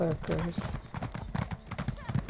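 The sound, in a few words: horse hooves in video game Elder Scrolls Online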